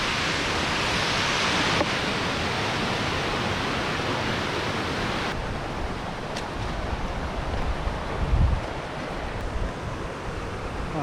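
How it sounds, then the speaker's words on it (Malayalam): A waterfall beside rocks gives a dense, continuous roar of rushing water that is loud and steady from start to finish, with no voices over it. "ഇവിടെ നിന്നാണ് കേട്ടോ വെള്ളച്ചാട്ടം"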